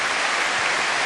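Steady, dense applause from a large crowd at a France versus Italy rugby match, filling the stands evenly with no pauses or voices rising above it.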